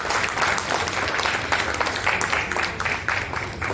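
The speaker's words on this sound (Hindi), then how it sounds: "हम चाहेंगे एक बार उनके लिए सभा के सभी लोग तालियों की गड़गड़ाहट से उनका स्वागत करें।" A community meeting audience of the Vaishya Samaj in Siwan applauds to welcome the chairman, Dr. Rajendra Prasad, with a steady round of clapping at moderate volume.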